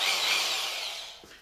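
A power drill whirs steadily at high speed, then winds down and stops near the end; close and fairly loud, no talking.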